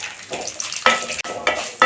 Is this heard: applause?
no